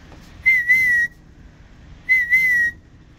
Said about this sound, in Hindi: लेकिन मैं फिर भी सीटी बजा रहा हूँ